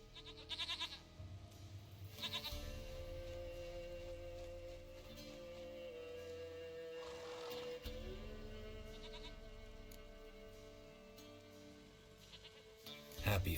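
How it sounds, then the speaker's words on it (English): A goat bleats in The Witcher 3, in short repeated cries set over a steady game soundscape with background music, fairly quiet overall. "Goat of mine, dearest, sweetest goat."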